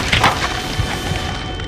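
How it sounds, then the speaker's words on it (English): A body slammed violently against pavement: a loud, crunching, splintering impact right at the start that fades into a rumbling wash of noise, with no voices. "Arching back, he viciously smashes me against the pavement."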